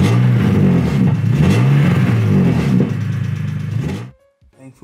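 A car engine, just repaired after a fuel leak from a loose hose clamp, runs loud and close with several rising and falling revs, then falls away to near silence.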